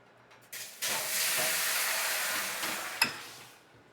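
Steady steamy hiss of fish frying in a pan that rises abruptly and holds for a few seconds with a brief sharp click near the end, no voices.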